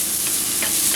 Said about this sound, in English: Stir it round. Now with noodles, you do not want it catching on the bottom because they will burn.